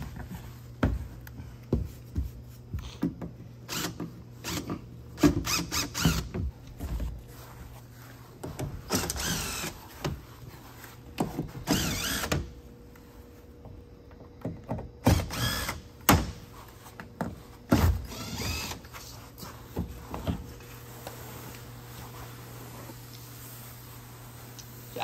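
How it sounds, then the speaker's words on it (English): Trim and a panel being pried and pulled off a swim spa, with scattered clicks, scrapes and plastic snaps coming in irregular bursts over a steady low hum, fairly close and moderately loud, with no talking. "We're going to remove the trim and the panel so that we can locate the frame."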